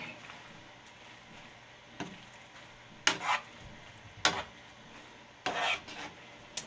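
Seafood fettuccine in a white wine butter sauce is tossed and stirred in a pan, giving several spaced, close scraping and clinking strokes over a faint background, with no talking.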